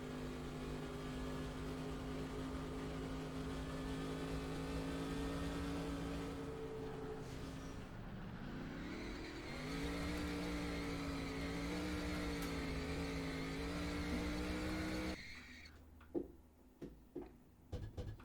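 Race car engine from NASCAR Racing 2003 revving steadily through a burnout, a loud sustained droning roar that shifts pitch midway, then cuts out abruptly near the end, leaving scattered faint knocks and clicks.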